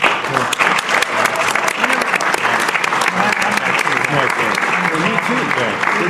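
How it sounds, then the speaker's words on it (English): An alumni panel audience at Cuesta College gives a sustained round of applause, dense clapping filling the room from start to finish with some voices mixed in. "Let's give them a round of applause"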